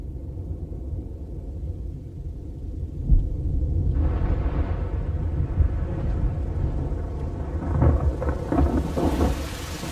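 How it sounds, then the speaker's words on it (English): An October thunderstorm over the Masai Mara brings low rolling thunder beneath steady rain, the downpour growing louder and hissier midway with a few sharper rumbling cracks. "On the Masai Mara, the storms of October approach."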